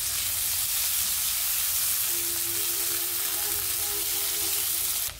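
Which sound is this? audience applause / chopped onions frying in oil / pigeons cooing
chopped onions frying in oil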